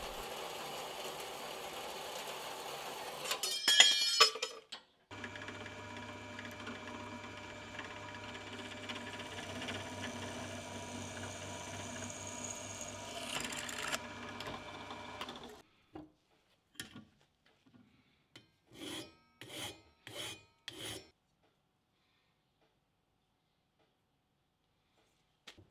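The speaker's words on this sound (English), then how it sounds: "and then cut the bar to length" A metal bar is cut to length for a homemade hot-wire foam cutter with a powered tool. A steady mechanical whir runs for about ten seconds, then stops, and is followed by scattered knocks and short bursts of handling noise.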